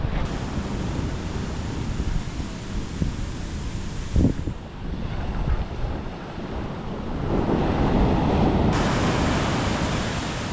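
Sea waves in Sri Lanka crash and wash continuously under heavy wind buffeting, the roar swelling louder toward the end.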